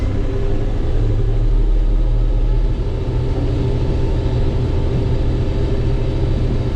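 A small farm tractor's engine runs steadily during corn work, a loud, constant low rumble with a droning hum and no pauses.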